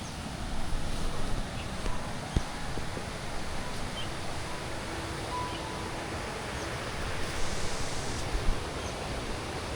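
Rushing water at Kolapathana waterfall in Mandaram Nuwara makes a dense, steady roar that fills the whole clip with no pauses, heard up close and without any voices.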